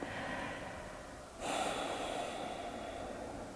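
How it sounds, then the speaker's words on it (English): A slow, relaxed breath taken during a calm guided relaxation, soft and close, a quiet airy inhale swelling into a fuller exhale about halfway through, with no talking. "take a couple of breaths"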